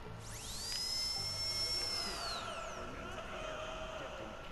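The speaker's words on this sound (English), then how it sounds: "if you hold square on it, you can hear this drill right here." A dentist's drill on the operating table in Call of Duty Zombies map Verruckt whines as a high steady tone that rises, holds for about two seconds, then sweeps down, set against low game ambience.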